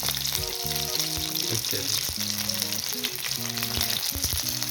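Fish fries in hot oil, a continuous crackling sizzle heard close up, with a background tune and brief speech.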